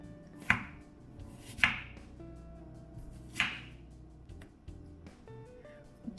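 A knife cuts a banana into thin slices, four sharp taps on a cutting board spaced about a second apart, close and distinct against a quiet background.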